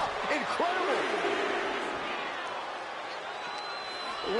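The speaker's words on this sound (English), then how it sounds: "Listen to this crowd." Wrestling arena crowd roars and cheers steadily throughout, a dense wash of voices at a live match, with a commentator talking over it.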